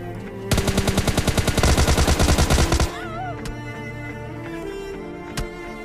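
Tommy gun firing in the video game PUBG Mobile Lite: a loud, rapid burst of about twenty evenly spaced shots for over two seconds, then ringing tones and a single later pop.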